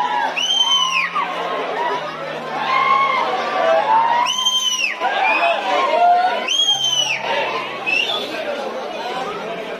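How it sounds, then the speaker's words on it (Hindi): A large crowd chatters and shouts around a cricketer at a public meet in Jammu, with dense overlapping voices, children's shouts and bursts of whistles or cheers, loud and continuous throughout. "ज़्यादा भीड़ थी, कसम से संभालना बड़ा ज़्यादा मुश्किल हो गया था"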